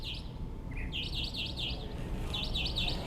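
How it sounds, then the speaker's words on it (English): A small bird chirps nearby in a quick series of bright, repeated tweets, pausing briefly before another run, over a low steady background hum. "we have a bird talking with us here"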